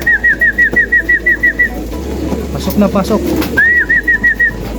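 Newly settled pigeons cooing during stick trapping, with rapid rhythmic repeated coos close by at the start and end, a brief spoken word and scattered chirps in between.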